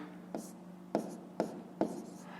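Pen strokes on paper while a fifth-grade maths exercise is written out, four short scratchy bursts spaced about half a second apart, close and fairly quiet over a low steady hum.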